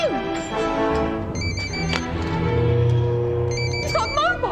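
A mobile phone ringing in a Doctor Who episode, a repeating electronic ringtone pattern heard under a mix of voices and background sound from the scene, with someone talking over it.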